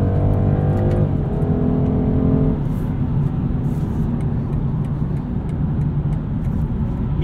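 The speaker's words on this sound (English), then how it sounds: "It has plenty of acceleration, super responsive with the CF 8-speed." A 2022 BMW 230i Coupe with an 8-speed automatic on Pirelli summer tires accelerates hard, heard from inside: a loud, rising engine drone with a quick step in pitch, then a broad rush of engine and road noise.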